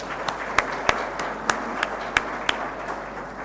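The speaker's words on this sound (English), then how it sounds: "So again, I think a round of applause for our special winners today." Applause at an online graduation ceremony for special award winners, with a handful of distinct claps over a soft, steady wash of clapping, moderately loud and without talk.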